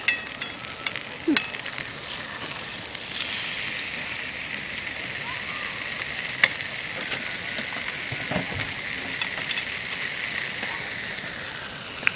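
Food cooking over a campfire at a July campsite, with a continuous soft sizzle and crackle, occasional clicks and knocks, and faint voices in the background.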